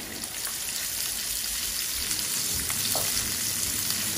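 Garlic and cumin stirred and fried in a pan, a continuous close sizzle with soft scraping of the stirring utensil running throughout.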